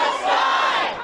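A large protest rally crowd at a town hall chants and shouts together in one brief, loud burst of massed voices that swells and then fades.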